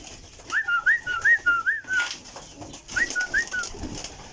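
Pigeons coo in a rhythmic series of soft, rolling whistle-like calls, two close bursts separated by a short pause, clear and near in a quiet setting.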